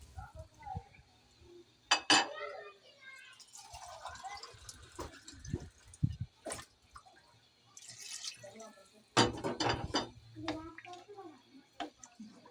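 Water is poured into a pot of potato and pea curry, heard as splashes and drips among clinks of utensils and metal pot sounds, with quiet pauses between bursts.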